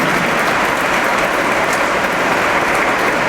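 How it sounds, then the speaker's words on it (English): Gala dinner guests give the museum staff a round of applause, loud, continuous clapping from a large crowd with no voices over it. "let's give a round of applause for them"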